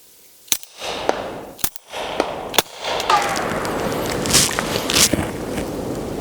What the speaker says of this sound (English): we're going to shoot 3 more of these with the suppressor